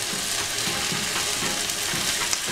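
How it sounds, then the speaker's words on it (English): Tomatoes frying in a cooking pan, with a continuous loud sizzle and faint rhythmic stirring scrapes underneath, close up and with no talking. "Give this a stir for a couple of minutes."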